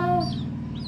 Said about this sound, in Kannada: ಕಲರ್ ಕೋಳಿ ಪಿಳ್ಳೆ.